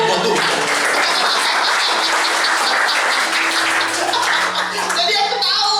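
A church congregation breaks into lively applause during a service, dense clapping over sustained instrumental tones, with voices calling out under the noise.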